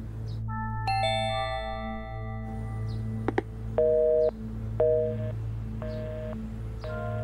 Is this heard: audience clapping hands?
no